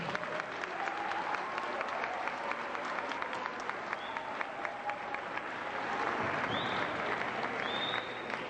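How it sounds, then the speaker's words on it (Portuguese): A church congregation at a 1996 Assembleia de Deus gathering in Brasília gives steady, sustained applause for the organizing team, dense and even throughout with faint voices mixed in. "tem uma salva de palmas para a equipe organizadora"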